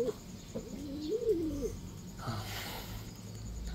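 A pigeon coos in a soft, rolling phrase up close, followed by quieter shuffling and background noise.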